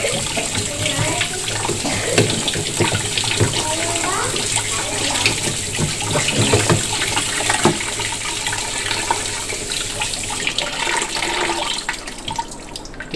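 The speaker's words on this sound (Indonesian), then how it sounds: "Buka paip ni sikit. Buka paip lalahan." Water runs from an opened tap into a clogged sink, a steady close splashing stream lasting throughout, with faint clatter and brief voices underneath.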